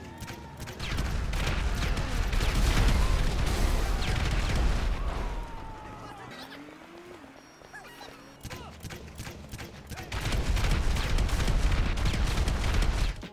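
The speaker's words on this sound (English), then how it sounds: "you can spam grenades really fast" Grenade launcher in GTA Online fired rapidly without aiming, a dense barrage of loud thumping launches and explosions in two bursts with a quieter lull between them.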